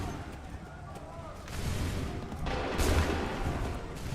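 Musket volleys from redcoat lines crack out in Assassin's Creed 3, a couple of loud massed bursts of gunfire booming through an outdoor battle, with rumbling echoes and shouted orders around them.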